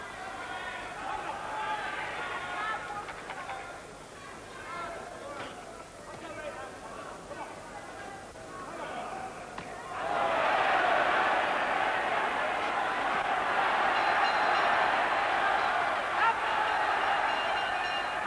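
Boxing arena crowd at a 1984 fight roaring and urging on Barry McGuigan, a broad swell of cheering that surges louder and fuller partway through, with a commentator talking over it.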